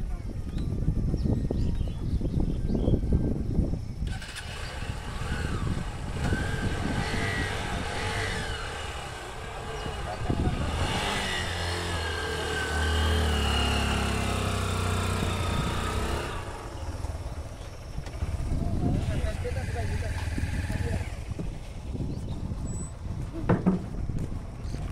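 Motorcycles of a touring bike group rolling aboard a river boat on a camping trip near Kuakata, with steady engine rumble and low revving under wind noise, a heavier engine surge in the middle, and voices talking in the background.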